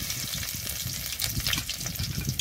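Whole cumin seeds and dried red chilies fry in hot oil for a Bengali lote fish dish, giving a steady close sizzle with soft crackling pops throughout and no talk.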